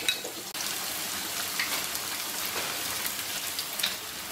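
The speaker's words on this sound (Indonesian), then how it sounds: "Dan ini tempenya aku goreng." Sliced tempeh frying in hot oil, a steady dense sizzle with crackling pops running continuously and alone.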